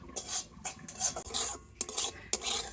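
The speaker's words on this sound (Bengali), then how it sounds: "তো একেবারে হালকা জাল দিয়ে তো সুজিটাকে হালকা করে ভেজে নিতে হবে।" Dry semolina is roasted over low heat in a pan while a utensil scrapes through it in short, gritty strokes, a rhythmic rasping repeated several times, close and fairly quiet.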